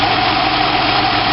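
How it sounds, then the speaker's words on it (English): A 2003 Ford Escape engine idles with a dead number 5 cylinder, giving a loud, steady, close mechanical hum with a faint uneven pulse throughout. "The engine runs as good without the number 5 cop as it does with it."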